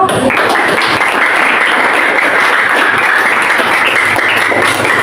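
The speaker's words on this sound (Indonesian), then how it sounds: "Tepuk tangan dulu." Steady, dense applause from a classroom of students clapping for a group that has just presented its discussion results, loud and continuous throughout with no break.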